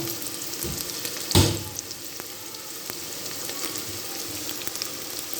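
Mutton and cauliflower with ginger sautéing in a pot, a soft continuous sizzle with one sharp clatter early on and light stirring ticks, heard close with no talk.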